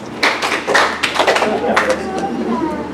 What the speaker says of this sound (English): Can my Montessori classmates please clap 2 times?